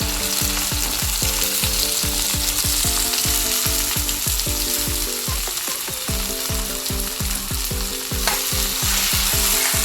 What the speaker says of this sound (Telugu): ఇందులో ముందుగా కట్ చేసి ఉంచుకున్న బెండకాయ ముక్కలను వేసి వేయించుకోవాలి